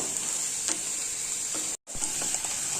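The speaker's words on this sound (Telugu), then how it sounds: "ఇదిగోండి, ఇలా క్యారెట్ ముక్కలు వేగుతున్నాయి." Carrot pieces fry in a pan with a steady, close sizzle and a few faint stirring ticks, with no talk.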